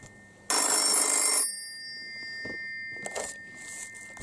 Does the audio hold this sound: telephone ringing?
yes